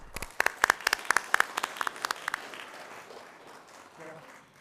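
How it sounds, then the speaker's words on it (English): Applause at a school board meeting honouring a student group: a burst of sharp, fairly close claps in the first two seconds that thins out and fades into quieter room noise, with faint voices near the end. "One last round of applause for this group"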